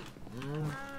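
A Minecraft cow lets out one drawn-out low moo on a cow farm. The call swells and fades within a second, moderately loud, with no speech over it.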